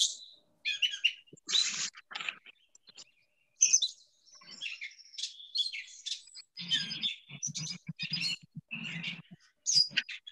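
A mockingbird-family bird sings a varied series of chirps, whistles and buzzy calls, including mimicry of other birds, in quick phrases with short pauses, close and clear against a quiet background.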